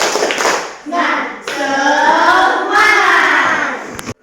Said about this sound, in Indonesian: Kita mulai bareng-bareng ya. Tepuk semangat.